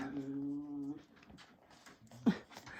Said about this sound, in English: Sorry, silly dogs.